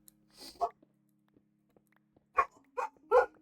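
Two pet dogs indoors, one named Biscuit, giving a quick yip followed by three short, sharp barks a moment later in an otherwise quiet room.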